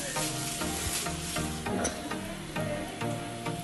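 Dry fish frying in a pan, a steady crackling sizzle with stirring and scraping strokes running throughout at close range, with no one speaking.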